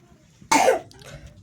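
A single sharp cough from a nearby person, a short loud burst followed by a softer raspy trailing breath.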